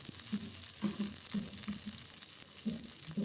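Tempering spices sizzle in hot oil for a village-style raw mango dal, a steady bright hiss with soft crackles and pops coming in small bursts throughout, close and fairly quiet, with no talking.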